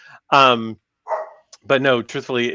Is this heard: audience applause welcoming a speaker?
no